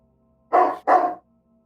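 A dog comes through an open microphone during an online tabletop role-playing session, giving two sharp, close barks in quick succession against an otherwise quiet background.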